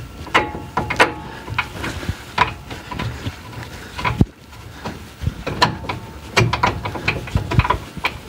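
Ratchet wrench tightening a nut on Tesla suspension during a control arm and hub carrier replacement, a series of close metallic clicking bursts with brief pauses between strokes.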